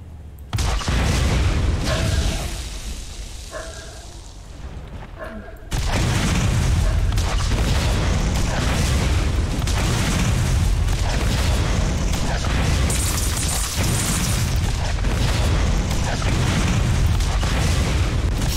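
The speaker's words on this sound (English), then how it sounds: "We don't want to hit those barrels with this thing because, whoops, those will explode." Barrels explode in Borderlands with a heavy boom. A sudden loud blast breaks in after a quieter lull, and dense crashing, rumbling game noise follows and carries on to the end.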